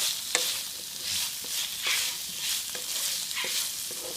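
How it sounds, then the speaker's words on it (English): Meat in red sauce stirred in a hot pan, a continuous sizzle with a soft hiss and repeated spoon scrapes and taps at an even pace, close and moderately loud with no voices. "just gonna mix it, and see how it has that little red color in there"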